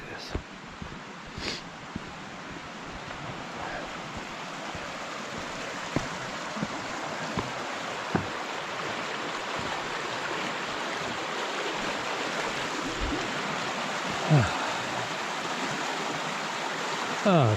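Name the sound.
rushing mountain stream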